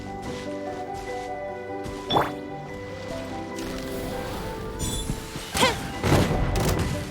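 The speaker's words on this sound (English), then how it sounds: "The explosion was roughly the size I expected." An explosion in the video game Genshin Impact, heard as a couple of dull booming thumps that rise out of a sustained musical and ambient game bed, moderately loud and without any speech.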